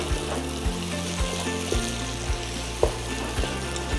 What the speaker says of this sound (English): So 2 more teaspoons of red paprika. Stir that in.